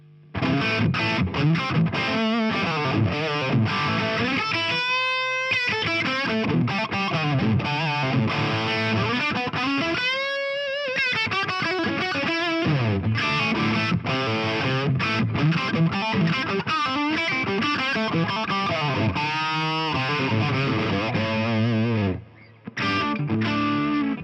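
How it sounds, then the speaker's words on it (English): A heavily distorted electric guitar through a distortion pedal into a Marshall JVM 410 Joe Satriani signature amp plays continuously for a long stretch, thick and saturated chords ringing out with a brief dropout near the end. "normal cool distortion pedal"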